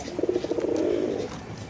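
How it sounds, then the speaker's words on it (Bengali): Two pigeons of a good breed coo close by, a run of soft rhythmic pulses followed by a longer sustained throaty coo, with no talking over it. "এই নটটা ডাক অনেক আছে দেখেন দুটা কবুতর"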